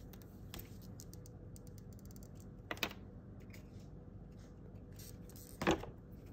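Wire cutters snip half round jewelry wire for a wire-wrapped pendant, giving two or three sharp, isolated clicks spaced a few seconds apart over quiet room tone.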